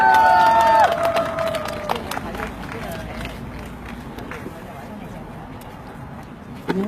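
A crowd at an outdoor candlelight rally in Gimcheon breaks into sustained, dense clapping to welcome a local singer; brief musical tones open the moment, and the applause carries on steadily at moderate volume before fading near the end.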